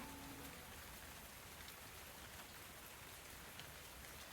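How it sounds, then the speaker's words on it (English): Steady rain ambience with even drops on a surface, constant and moderately close, with no voices. "Ah, it's rainy. I love it."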